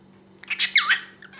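A pet bird gives a short series of squawking, voice-like chirps mimicking a greeting, a few quick close bursts over a faint steady hum.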